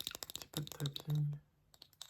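Fingertip tapping on surfaces in a soft lo-fi ASMR session, quick light clicks in a loose, irregular rhythm, close and fairly quiet, with a few low hums from a soft voice mixed in.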